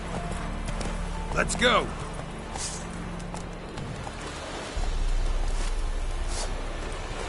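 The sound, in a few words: horse galloping in The Witcher 3 video game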